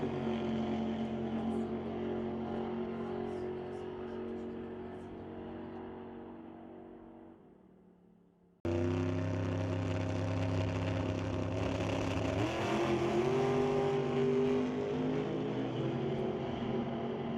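Drag race cars at Mission Raceway Park, a Camaro among them, roar toward the finish line: steady loud engine drone fades, drops out briefly, then surges back as a nearer, fuller roar with a rising pitch sweep.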